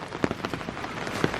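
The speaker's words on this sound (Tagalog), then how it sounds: "Hoy, umuulan." Rain falling near the sea at Samal, a soft steady patter on surfaces with a couple of slightly louder drops, heard alone without talk.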